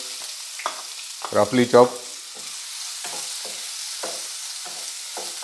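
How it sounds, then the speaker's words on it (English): Chopped onion sautéing in a pan with cinnamon and cloves, a quiet steady sizzle with a burst of clattering stirs near the start, while a voice speaks briefly. "Saute it well. Now add onion."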